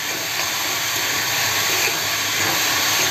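Onions sautéing in a kadhai, releasing their water as they are stirred, give a steady, continuous hiss and sizzle that stays even and fairly loud throughout, with no voices.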